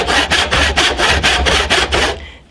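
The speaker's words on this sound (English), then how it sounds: "all that's left is to cross cut, and these pieces will be able to be removed" A hand saw cross-cuts a short stretch of timber for a timber-framed workbench, about nine quick, even back-and-forth strokes, loud and close, with no talk, ending abruptly.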